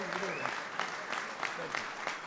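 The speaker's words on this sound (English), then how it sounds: "How about we all give President Trump an amazing round of applause for being here tonight." Audience applause for President Trump at the White House as the Clemson Tigers visit as national champions, a steady patter of clapping with a few sharper bursts, sustained through the short span at moderate volume.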